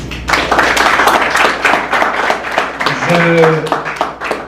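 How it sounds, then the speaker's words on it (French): An audience at a summer university conference claps for the staff, a dense, steady round of applause that carries through the whole stretch, with someone speaking over it near the end. "je vous demande d'applaudir encore Madame Gladys Talleyrand Gillot"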